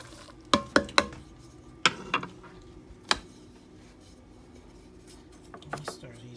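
Pinto beans being stirred in a pot, with a handful of sharp spoon clinks and scrapes against the pot, in clustered taps and then sparser knocks, fairly close over a quiet kitchen background.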